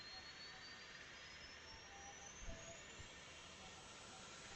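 The small APU jet engine of a Boeing 737-200 in X-Plane spins up, giving a faint, steadily rising whine over a soft, continuous rushing roar, heard from outside the aircraft.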